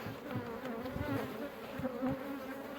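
Steady, dense buzzing of many honeybees on hive frames close by, a continuous hum with no voices.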